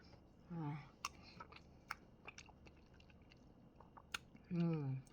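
A ripe mango is chewed in soft, wet, irregular bites close to the mic, with short spoken phrases at the start and the end.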